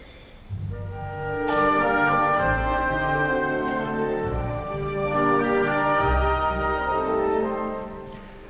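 An orchestra plays Elgar's Enigma Variation I, with oboes and bassoons carrying a broad, swelling theme and violins quietly underneath, sustained and rich, rising and easing in loudness.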